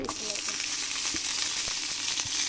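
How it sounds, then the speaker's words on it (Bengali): Chopped onions fry in hot oil in a home kitchen pan, giving a steady, bright sizzle and crackle with occasional soft pops, close and continuous throughout. "তেল গরম হয়ে চলে আসছে এবার দিয়ে দেবো পেঁচকুচি"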